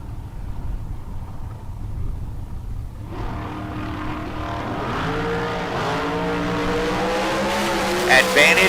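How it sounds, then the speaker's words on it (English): A Rich Ford sponsored dragster launches down the left lane of a drag strip at bracket races, engine roaring up in rising revs from about three seconds in and building loud to the end, with a faint announcer voice beneath. "Rich Ford sponsored dragster on the left side of the racetrack"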